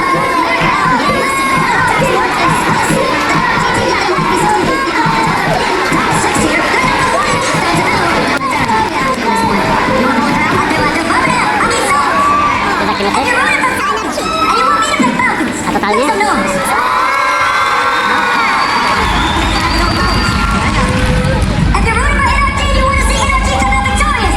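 A large esports arena crowd at the RLCS Birmingham Major, a Rocket League event, cheers and shouts loudly and without pause for over twenty seconds, with many voices overlapping.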